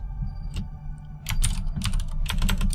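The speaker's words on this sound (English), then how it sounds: "my keyboard's a little bit loud. Well, it is a little bit loud. It's a mechanical keyboard." Quick, clicky keystrokes on a loud Razer mechanical keyboard, at first sparse and then settling into a dense, steady typing burst close to the microphone with no talking.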